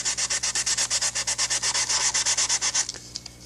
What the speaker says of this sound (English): Now we're going to come and sand that super glue off. I'm using 320 wet.